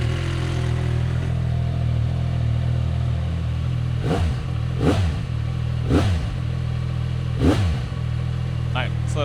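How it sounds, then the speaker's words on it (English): 2025 CFMoto 675 SS motorcycle on its stock exhaust, a steady idle after a cold start with four sharp throttle blips rising and dropping back, loud and close. "Cold start 2025 CFMoto 675 SS stock exhaust"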